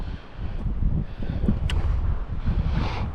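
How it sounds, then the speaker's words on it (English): Steady wind buffeting the microphone, a low rumbling roar with gusty swells throughout and no voices. "Yeah, I think it's just a tad bit too windy."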